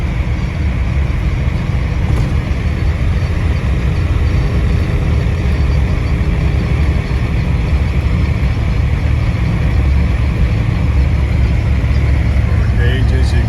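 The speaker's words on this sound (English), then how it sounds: "These are good cruisers, you know, got a little bit of wind noise, but it's also a 70-year-old car." Steady engine drone and rushing wind noise from a 1955 Buick Special Riviera cruising at speed, constant and fairly loud throughout.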